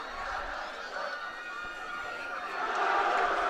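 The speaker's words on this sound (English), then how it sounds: "The crowd is going crazy." Crowd cheering at a schoolboy rugby match between Boland Landbou XV and Garsfontein XV: broad, continuous crowd roar that swells louder toward the end, with a commentator talking over it.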